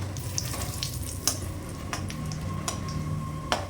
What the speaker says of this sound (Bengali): দুটো তেজপাতা ফোড়ন দিলাম।